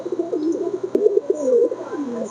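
Pigeons coo close by, a soft, repeated throaty warble running through the whole stretch with a single sharp click partway through.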